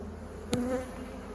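Honeybees buzz during an open beehive inspection, a steady low hum with one brief louder drone rising as a bee passes close, no talk.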